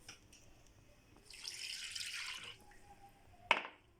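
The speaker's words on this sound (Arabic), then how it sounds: "مزيان غادي نزيد الحليب" Milk pours into a pot while making an easy milk-and-water dessert, a soft steady liquid rush lasting about a second, ending in a sharp brief clink.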